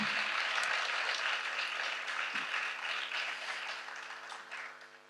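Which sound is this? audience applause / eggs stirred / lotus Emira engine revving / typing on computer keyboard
audience applause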